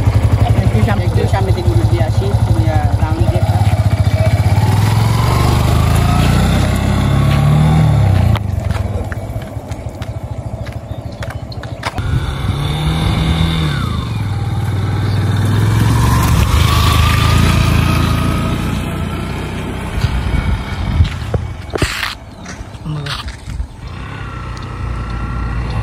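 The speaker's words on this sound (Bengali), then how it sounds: "রিফাত এই যে চাবিটা দিয়ে দিছি এই যে এটা অন করলাম" A Yamaha R15M motorcycle engine runs at close range, its loud drone rising and falling with throttle blips, while people talk over it throughout.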